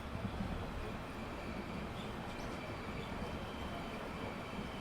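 Amrit Bharat express train running along coastal Kerala near Thalassery station, a steady, loud rumble of wheels and carriages filling the whole stretch with no breaks.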